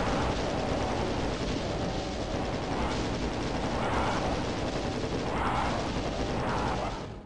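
Plasma rifle firing in Doom II, fighting Hell Knights in a small room: a steady, dense stream of rapid energy shots with swelling impact blasts, loud and continuous to the end.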